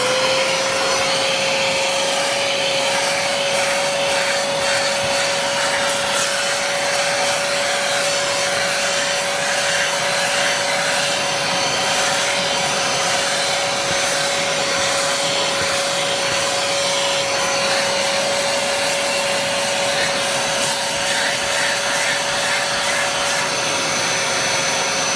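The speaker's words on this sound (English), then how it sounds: "And then we're gonna take the extractor to this seat." An upholstery extractor runs on a car seat, a loud, steady motor whine with a constant high tone and rushing suction, continuous for about 25 seconds with no talk.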